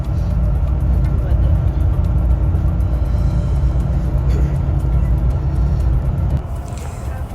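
Road traffic on the outskirts of Dubai, heard from inside a moving vehicle: a loud, continuous low engine and tyre rumble with passing-vehicle swells, easing slightly near the end.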